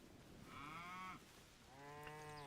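Cattle in the video game Hytale mooing twice, two drawn-out lowing calls about a second each with a short gap between, moderately close and alone.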